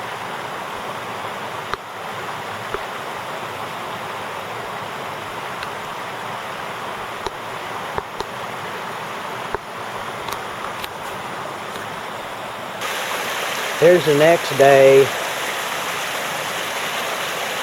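Creek water pours steadily over a dam built from piled rocks, a constant close rushing flow with scattered clicks and knocks. A voice speaks briefly near the end.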